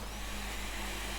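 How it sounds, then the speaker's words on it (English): A robot maid's vacuum cleaner in the Genshin Impact video game gives a steady, even whirring drone that stays constant and fairly loud throughout, with no talking. "No, it's a vacuum."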